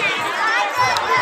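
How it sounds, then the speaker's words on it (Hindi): Busy crowd bustle at a village winter fair in Nandaura, Raebareli, a dense murmur of chatter and movement close around with a brief sharp clink, voices talking throughout. "इतना भीड़ भाड़ भी शुरू हो रही भैया"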